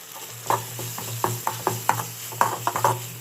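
Onions and tomato with a pinch of turmeric sautéing in hot oil for a simple chicken gravy, a soft steady sizzle broken by sharp clacks of a spatula stirring the pan, close up, with a low hum beneath.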